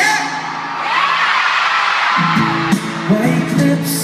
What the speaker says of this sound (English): Give me a yeah!